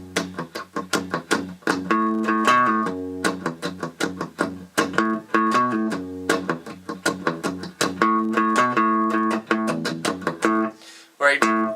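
A clean electric guitar doubles the bass line of a song, a choppy, rhythmic low riff of short plucked notes, close and steady, with a brief pause near the end.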